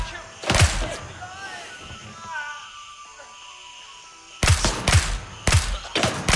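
A player's gunfire in the Grey Zone Warfare shooter, with a burst of sharp nearby shots early, a quieter stretch, then several loud rapid shots in quick succession.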